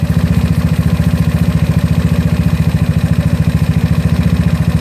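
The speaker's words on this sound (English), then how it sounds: "You don't stress on the engine when you're idling." A GY6 scooter engine fitted with an OKO PWK 30mm carburetor idles steadily, its rapid even low putter pulsing close and loud without pause, with no voices.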